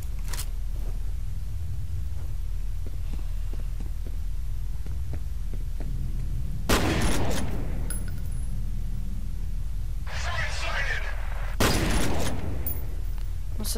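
Gunfire in the F.E.A.R. 3 video game: two loud, sharp shots about five seconds apart, cutting through a low, throbbing background hum.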